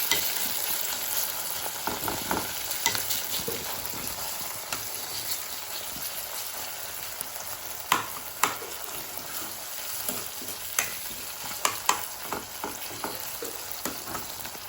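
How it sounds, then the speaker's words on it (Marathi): Tomatoes frying in a pan at home, a continuous bright sizzle with scattered clicks and spoon knocks that grow more frequent toward the end, close and fairly loud, with no voices. "मस्त परतून झाले टमाटे"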